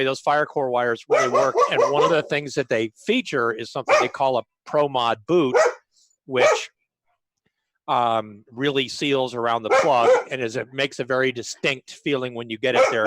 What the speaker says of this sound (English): My apologies for my dogs.